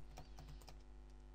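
Quiet, irregular keystrokes tap on a computer keyboard beneath a constant low background hum, with no speech.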